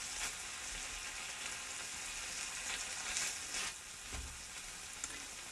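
Beef chunks searing in a pan for Irish stew, a steady close sizzle and fry with a few louder crackles and spits, no one talking.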